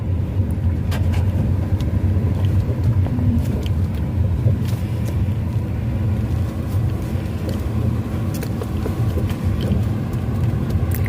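A car rolls slowly out of the driveway of a raised rural house, a steady low engine and tyre rumble running throughout with occasional light knocks and no talk.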